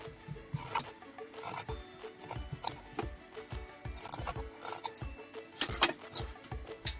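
Scissors trimming a fabric seam allowance, producing a series of close, soft crunching snips at an irregular pace with small rustles of cloth between cuts, and no one talking.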